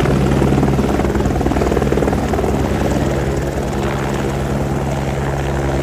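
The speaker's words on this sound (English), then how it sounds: "Get to the chopper!" A helicopter close by, loud and continuous, its rotor chop and engine whine steady throughout with no talk over it.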